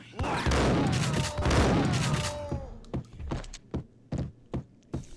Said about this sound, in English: Shotguns, that's what you heard.